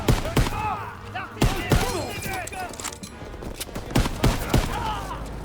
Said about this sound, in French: Impossible d'avancer, ces mitrailleuses tirent sur notre position!